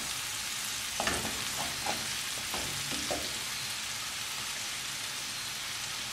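Chopped green onions sauté in a pan for a beef Stroganoff sauce, giving a steady soft sizzle with a few faint stirring clicks early on and no talking.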